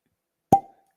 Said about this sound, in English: Better cork pop too.